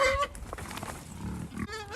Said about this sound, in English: So feeding the pigs next.